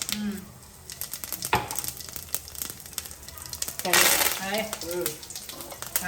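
Mustard seeds and cumin seeds drop into a pan of hot oil on a stove, giving crackling, popping sizzles and clinks of the pan while people talk nearby.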